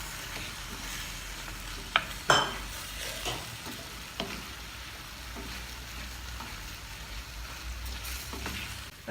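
Mushrooms stirred into boiling masala gravy in a pan, a soft steady simmering hiss underneath with a few sharp spoon scrapes and clinks scattered through, no talking.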